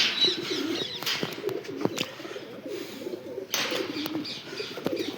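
Pigeons at a loft, including a female sitting on eggs, cooing: soft, low, repeated throaty coos close by, overlapping in a steady murmur with a few brief chirps and rustles, no voices.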